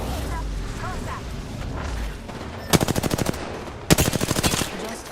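Enemy automatic gunfire in Apex Legends crackles in two rapid bursts of evenly spaced shots, each lasting about a second, following a stretch of busy game noise and faint talk.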